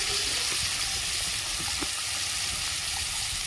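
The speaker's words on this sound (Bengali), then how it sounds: "সামান্য একটু জল দিয়ে দিচ্ছি।" Spiced banana-flower ghonto frying in a pan after a splash of water, giving a steady, soft hiss and sizzle that holds evenly throughout with no talking.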